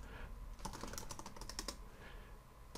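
Rapid typing on a computer keyboard while entering router configuration commands, a dense run of sharp close clicks in bursts with brief pauses, heard alone without talk.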